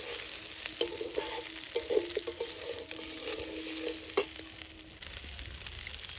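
Rice that was fried earlier is stirred and fried in a pan while making fish-head muri ghonto, a steady close sizzle broken by scraping spatula strokes and a few sharp knocks, with no talking.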